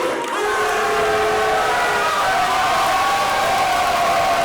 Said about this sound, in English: commentating with this raucous crowd that we have here